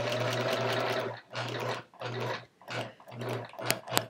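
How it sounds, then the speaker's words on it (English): A home sewing machine quilts a chevron quilt with a walking foot, running in five steady bursts separated by short pauses, each a close, loud whirring hum of rapid stitching. "I'm definitely barely fitting it within the neck here, the neck of my sewing machine"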